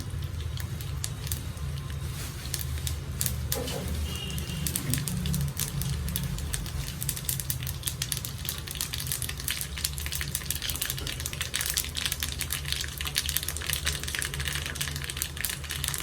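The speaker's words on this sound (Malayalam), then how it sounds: "അതൊന്ന് പൊള്ളിക്കോട്ടെ അറ്റൽ മുളക് ഇട്ട് കൊടുക്കാം" Chilies fry in hot oil while a curry is being made, a steady, even sizzle and dense crackle that continues unbroken at moderate loudness, with no voices.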